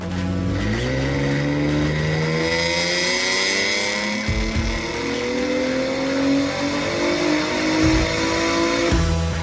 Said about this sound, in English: that is his 2007 Acura TL Type S on the dyno.